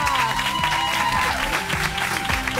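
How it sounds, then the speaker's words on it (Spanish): Studio audience applause for a guest interviewed on a Spanish television show, loud and continuous clapping that fills the whole moment, with a music bed running underneath. "Melanie Olivares, fuerte la aplauso."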